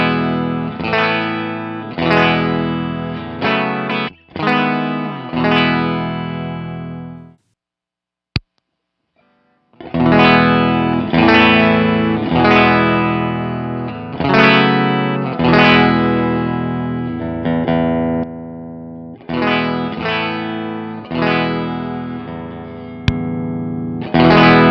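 An electric guitar played through a JHS Colour Box pedal into a 2x12 Celestion cabinet impulse response, with a wall-of-sound plug-in, strums repeated chords in rhythmic phrases, with a brief silent gap before the playing resumes.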